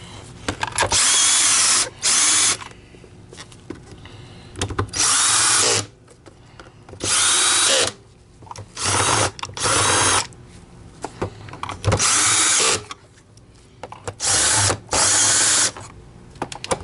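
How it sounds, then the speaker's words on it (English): A power drill drives screws into the elbow neck of an Electrolux EL7020 Eureka Beam Q100 vacuum power nozzle during a repair, in repeated loud whirring bursts of one to two seconds separated by brief pauses. "Next we're going to put our screws on."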